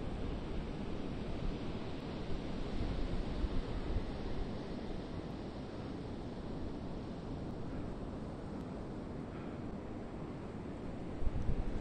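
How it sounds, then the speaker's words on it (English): Atlantic Ocean surf on the Fire Island National Seashore in January, a steady wash of breaking waves mixed with wind rumble on the microphone, continuous and fairly even with no talking. "See how the waves are cresting 500 feet or so out there?"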